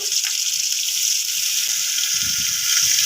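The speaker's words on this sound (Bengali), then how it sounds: "মশলাটি যাতে আমার তলায় না লেগে যায় তার জন্য সামান্য পরিমাণে দেব জল" Water is poured into spice masala in a pan while making a vegetarian matar ghugni, with a steady, bright hiss of liquid and sizzle running unbroken from start to end.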